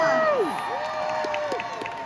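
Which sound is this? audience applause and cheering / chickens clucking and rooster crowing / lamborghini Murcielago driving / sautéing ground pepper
audience applause and cheering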